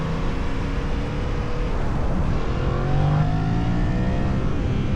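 Yamaha MT-07 motorcycle engine pulling hard under throttle, a loud continuous roar with a rising tone near the middle, close and steady with no talking.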